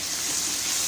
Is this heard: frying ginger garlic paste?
yes